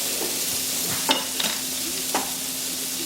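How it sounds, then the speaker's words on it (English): Ingredients for a Caribbean lobster dish sautéing in a pan, a steady soft sizzle with a few brief stirring scrapes and clicks near the middle, close and fairly quiet, no voices. "Saute this for a little bit"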